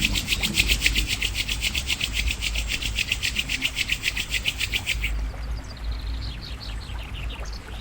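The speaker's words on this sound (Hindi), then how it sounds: "धीरे धीरे अपनी दोनों हथेलियों को रब करेंगे।" Two palms rub together briskly during a guided yoga relaxation session, making a close, rhythmic swishing friction that repeats steadily, then softens and fades during the last few seconds.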